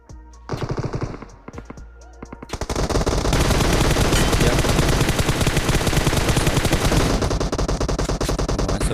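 Gunfire in the mobile battle royale game BGMI on the Livik map: a few single shots lead into long, dense automatic bursts, loud and continuous, with no talk.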